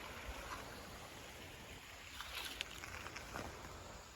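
Blackburn Run flowing beneath a bridge on its upstream side, a quiet, steady broadband wash of moving water that holds level throughout, fairly faint and distant, with no voices over it.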